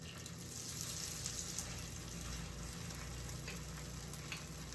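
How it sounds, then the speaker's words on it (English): Hot water cornbread batter dropped into hot frying oil, a steady dense close-up sizzle and crackle throughout with no talking. "You can hear it sizzling."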